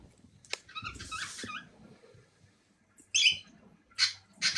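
Birds chirp in the background of an indoor call. Short bright bursts of tweets come near the end, after quieter, muffled sounds earlier on.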